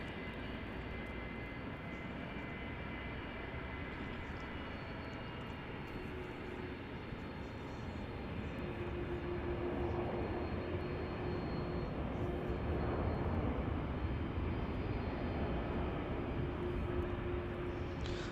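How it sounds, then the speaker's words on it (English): A Jetstar airliner on flight JQ64 from Ho Chi Minh City lands at Melbourne Airport, a loud continuous broadband jet roar that swells slightly in the second half, with a faint steady whine joining partway through. "This is Jetstar flight JQ64 from Ho Chi Minh City, flying directly in from Vietnam."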